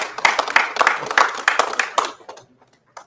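An audience at a press conference gives a round of applause, many hands clapping briskly and close for about two seconds before tapering off to a few scattered final claps and near silence.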